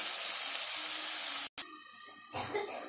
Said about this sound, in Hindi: चेन्नागि आयिल अल्ले फ्राई माड्तीनि